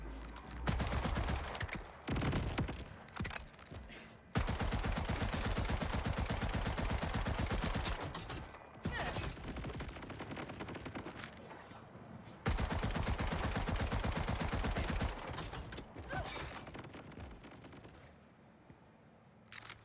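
Rapid automatic SMG fire in the video game Borderlands 4, long sustained bursts of dense gunshots broken by brief pauses, loud and close with no talking.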